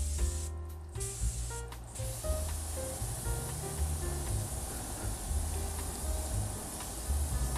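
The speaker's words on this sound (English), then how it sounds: "And now spraying it all up." Lacquer sprayed from a can onto a stained wooden barn-style birdhouse, a steady close hiss running continuously with brief pauses and restarts near the beginning.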